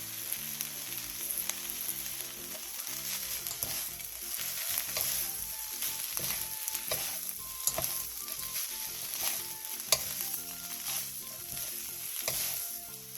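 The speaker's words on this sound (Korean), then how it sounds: "마지막으로 다진 마늘 반 스푼, 매실액 1스푼, 들기름 1스푼, 통깨를 넣고 1분에서 2분 정도 볶아 마무리해주세요." Chwinamul sizzles and crackles steadily in a pan as it is stir-fried with minced garlic, plum extract, perilla oil and whole sesame seeds, with close, continuous frying and occasional clinks of stirring.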